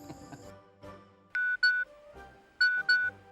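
A phone SMS notification tone plays in an Indonesian TV comedy scene as a series of short, clear electronic beeps in pairs, with faint background sound and no speech over it.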